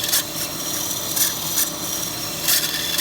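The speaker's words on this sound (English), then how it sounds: "The key is to keep the cylinder hone moving, and I did lubricate it with some" A cylinder hone lubricated with WD-40 works steadily inside a metal bore for a tool grinder project, giving a continuous gritty rasping with faint periodic scraping peaks, close and without speech.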